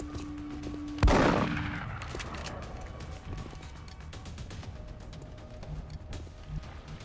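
Video game gunfire: a single loud, close shot bursts out near the start, followed by a long decaying tail and scattered fainter shots and clatter in the background.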